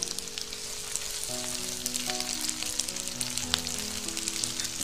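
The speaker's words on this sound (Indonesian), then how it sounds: "Tinggal kita tumis semua bumbu yang sudah kita iris" Steady sizzling of sliced spices, tomato and chili sautéing in a hot pan, with soft crackles and occasional scraping stirs, continuous and close.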